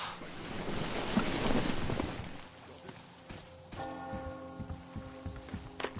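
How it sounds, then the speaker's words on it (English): A church bell in a video game tolls with a ringing, sustained tone after a stretch of muffled commotion, moderately distant, followed by a few clopping sounds. "Do you hear that bell?"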